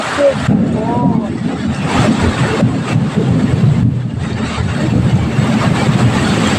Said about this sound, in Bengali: দেখুন কি বিদ্যুৎ চমকাচ্ছে, গাছপালা সব ভেঙে পড়ে যাবে।